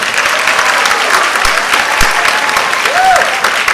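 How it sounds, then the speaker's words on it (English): An audience at a Grade 2 school play claps steadily and warmly for several seconds, a dense applause with a few sharper claps and a brief whoop rising through it. "Give them a round of applause and let them know that you're here"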